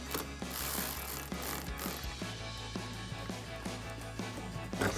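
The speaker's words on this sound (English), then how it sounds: "grab your ratchet, 10mm socket," A ratchet with a 10mm socket loosens the negative battery terminal nut on a 2019-2023 Ford Ranger, making steady, rapid pawl clicks up close that run on without pause.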